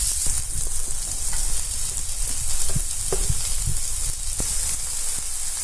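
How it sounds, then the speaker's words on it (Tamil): Vegetables and egg hakka noodles are stir-fried in a hot pan, a steady loud sizzle running throughout with scattered clinks and scrapes of the spatula against the pan. "காயெல்லாம் நல்லா வதங்கிடுச்சு. ஓரளவுக்கு நல்லா கிறிஸ்பா வதங்கிடுச்சுல."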